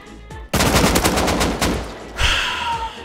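AK rifle fire in the survival game Rust: a loud, close, rapid automatic burst that sprays continuously for a couple of seconds after a short quiet lead-in.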